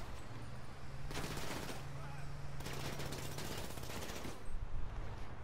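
Video game gunfire crackles in two sustained automatic bursts, loud rapid rattling volleys separated by a short pause, over a low engine hum.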